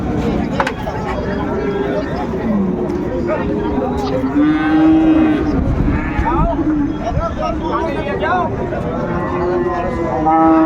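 Cattle low repeatedly at a Dinajpur livestock market selling Friesian and crossbred bull calves, several drawn-out moos rising over steady crowd chatter and nearby voices haggling throughout.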